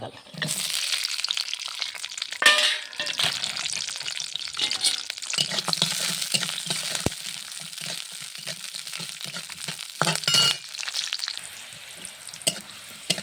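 Raw garlic and sliced onion frying in oil in a wok, a continuous hissing sizzle with bursts of louder crackling and occasional stirring clatter, close by, with no voices.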